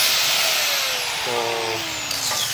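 An angle grinder whines steadily against welded steel on a damaged basketball ring, a loud, close, high-pitched continuous grind whose pitch sags slightly under load before easing off.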